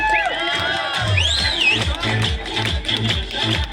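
A crowd at a village cricket final in Modgaon, Talasari, makes continuous noisy cheering and hubbub, with rhythmic clapping and whistles rising and falling under a loudspeaker voice.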